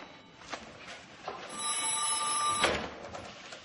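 An old telephone bell rings in a single sustained trill, loud and near, with soft movement noise before and after.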